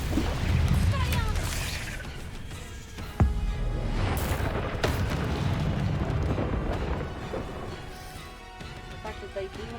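Confringo explosive spell blasts in Hogwarts Legacy, a series of rumbling bursts and crashes with one sharp crack near the middle, layered over game ambience with a voice talking at times.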